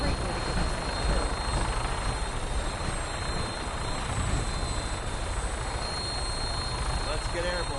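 An aircraft engine in the video game Fallout powers up for takeoff, a loud, steady, rushing drone with a thrumming rotor-like texture that holds throughout, with voices faintly beneath it.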